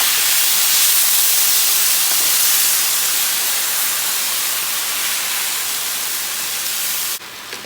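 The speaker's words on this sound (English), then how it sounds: "this is the perfect time to throw in that sauce" Tomato sauce hits a hot pan of frying rice for Mexican red rice, giving a loud, broad hissing sizzle that fades slowly over several seconds before a brief stirring clatter near the end.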